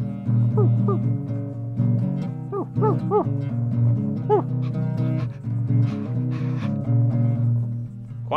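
A dog barks and lets out whimpering yips in several short bursts, loud and close, over a steady acoustic music backing.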